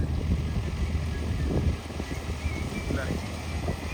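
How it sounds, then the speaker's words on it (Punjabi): Tractor engine pulling loaded trolleys, a low rumbling drone with wind buffeting the microphone, heard close, under someone talking. "ਦੇਖ ਲਓ ਟਰੈਕਟਰ ਦੀ ਆਵਾਜ਼ ਤੋਂ ਪਤਾ ਲੱਗਦਾ"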